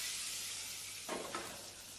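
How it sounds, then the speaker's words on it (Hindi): Mustard seeds and curry leaves crackle in hot oil during a tempering with broken dried red chilies, a steady sizzling hiss with a brief louder burst of spattering partway through, close and without talk. "और फिर इसके बाद हम इसमें डालेंगे कड़ी पत्ता, जिसको हम 10 से 15 सेकंड चटकने देंगे।"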